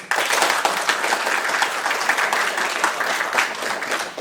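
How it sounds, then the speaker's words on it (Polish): A jazz concert audience bursts into heavy, dense applause, many hands clapping loudly and steadily throughout without a break. "Albo rzęsiste oklaski, albo klasówkę"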